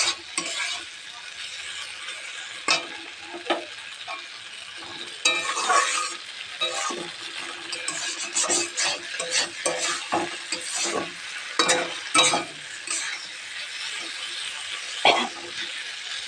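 Potatoes and okra fry in a pan while a spatula stirs them, with steady sizzling broken by repeated scraping strokes close to the listener. No one speaks.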